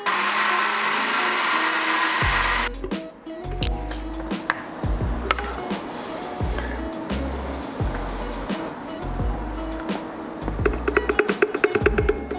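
A blender whirs loudly and steadily, its motor churning through thick parsnips, cream and salt with uneven bursts and strained pulses as it works.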